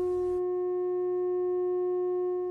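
A pure 540 Hz sine tone stands for a pentagon and holds as a steady, clean pitch from start to finish, preceded by a brief burst of noise.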